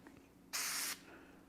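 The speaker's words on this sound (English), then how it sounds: "I'll wipe this down, some brake clean." A short, sharp burst of brake cleaner sprays onto an engine block, about half a second of close hissing in an otherwise quiet room.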